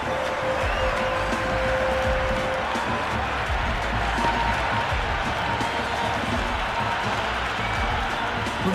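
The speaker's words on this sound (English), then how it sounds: "the crowd have joined the party. It's pretty noisy in the ground." Stadium crowd noise in the cricket video game Cricket 26: a steady, loud wash of cheering and clapping filling the whole stretch, with a faint tone early on.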